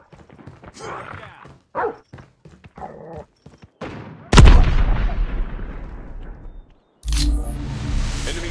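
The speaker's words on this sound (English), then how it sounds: "Grenade!" A grenade blast and bursts of gunfire in COD Mobile, with loud sharp explosions around sparse radio-style voice callouts, one big boom ringing out before another heavy crash.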